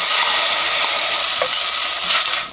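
Steady loud sizzling and crackling of soaked seaweed stir-frying in sesame oil, continuous throughout with occasional soft stirring sounds.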